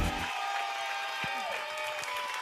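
Audience applauding in a television studio, steady clapping from a crowd that carries on throughout, with a short burst of voices at the very start.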